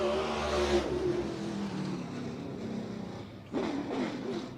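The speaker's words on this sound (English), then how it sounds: "Listen to that engine as he makes his way around Willamette Speedway" A NASCAR-style race car engine roars around Willamette Speedway on opening day, a loud revving drone that fades slightly as it passes, then surges again with another car's engine.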